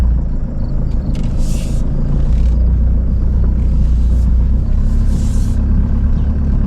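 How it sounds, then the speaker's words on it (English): Jeep Liberty KJ driving around a yard, heard as a steady, loud, close low engine and road rumble with faint higher rattles, no talking. "So I'm going to drive around the yard right now."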